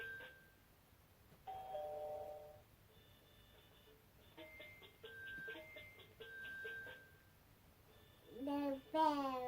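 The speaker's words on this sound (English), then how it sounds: "The bells." Electronic bell chimes from a children's touch-and-play sound book ring out in short bright tonal bursts, separated by brief pauses, with a voice rising near the end.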